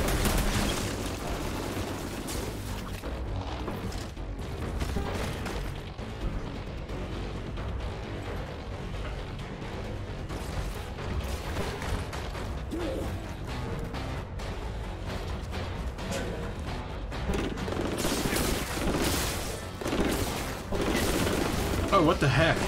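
Gunfire and booming blasts from the video game Outriders crackle in dense, continuous bursts with a loud surge near the end, with a person talking over it.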